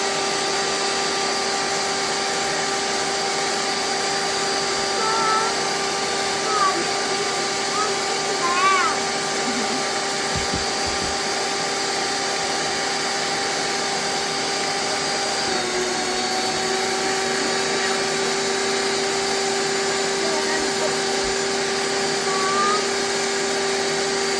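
A NutriMill Impact grain mill runs steadily while grinding brown rice at its finest setting, a loud continuous motor whine with a brief shift in tone partway through and no letup.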